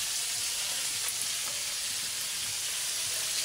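Fish frying in a pan gives off a dense, constant sizzle of hot oil, close and steady for several seconds with no talking.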